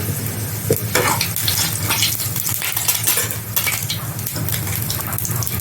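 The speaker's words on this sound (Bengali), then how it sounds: "আর গোটা শুকনো লঙ্কা আমি এখন ফোড়নে দিয়ে দিলাম।" Whole dried red chilies sizzle in hot oil in a kadai, a dense, loud, continuous crackle with scattered metallic clinks from the pan, close by and with no voices.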